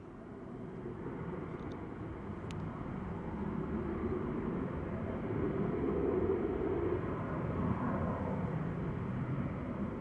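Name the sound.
TUI airliner on takeoff roll, Manchester Airport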